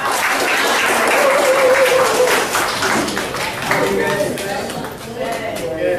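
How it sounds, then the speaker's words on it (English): A conference audience gives loud, dense applause for a presenter at a STEM foundation event, sustained and fairly even before easing slightly, with voices and cheers mixed in. "give a round of applause"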